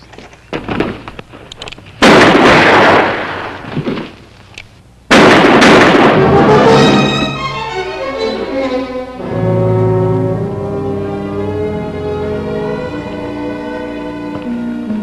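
Gunfire exchange in a TV drama: a few sharp, loud shots and bursts in the first seconds, then a long ringing, fading tail with sustained tones, no talk.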